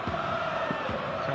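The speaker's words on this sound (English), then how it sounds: "crowd is loving every second of the action here" Big football stadium crowd at a Melbourne City vs Sydney FC cup final, a dense constant roar of many voices with brief surges of shouting, heard under a commentator talking.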